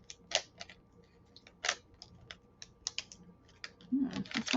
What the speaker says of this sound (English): we're just gonna tear off the corner